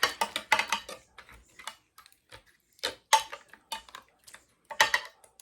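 Metal spoon or spatula clinking and scraping in a lasagna pan while tomato sauce is spread and mashed over the noodles, a series of close, irregular taps and scrapes with short pauses, no talking.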